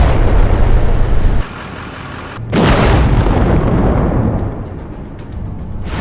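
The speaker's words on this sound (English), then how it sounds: "After the failed breach, Ukrainian tanks open fire on the column." Tank cannon fire and heavy explosions hit an armored column in combat, loud booming blasts with sudden bursts and rumbling decay, one sharp break midway before another roaring impact.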